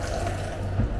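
Water runs steadily from a small alkaline water tap into a juice mix, a continuous splashing flow with a brief louder gush near the end.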